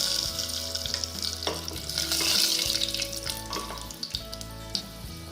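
Whole garam masala and bay leaves frying in hot oil for a jackfruit curry: a continuous crackling sizzle with stirring scrapes, close and steady throughout, over a low hum.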